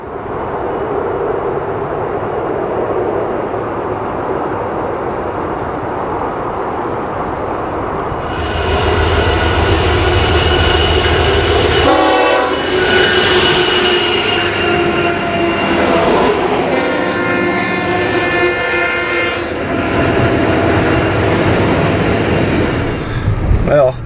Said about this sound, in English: So let's watch some trains.